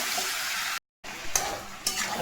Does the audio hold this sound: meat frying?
yes